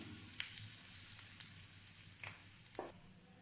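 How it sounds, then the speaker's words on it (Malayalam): Fenugreek seeds and asafoetida dropped into hot oil for mango pickle crackle and sizzle softly with small popping bursts, fading near the end, with no talking. "ഇതിലേക്ക് ഉലുവ ആഡ് ചെയ്യാം. കായപ്പൊടി ആഡ് ചെയ്യാം."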